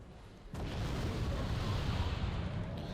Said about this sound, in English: Bit of artillery on the tanks.